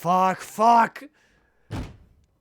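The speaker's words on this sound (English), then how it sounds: "I slammed my fist into the door with a loud bang." A fist slams once into a door in the video game Chaos;Head Noah, a single loud thud following a voice and a short pause.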